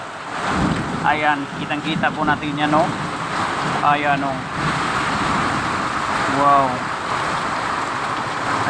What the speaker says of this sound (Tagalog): nag-umpisa na pong lumakas ang ulan.